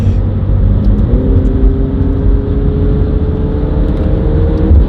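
Exotic sports car driving along a winding road, its engine droning steadily and loud with a continuous hum and slight shifts in pitch, close by throughout with no talking.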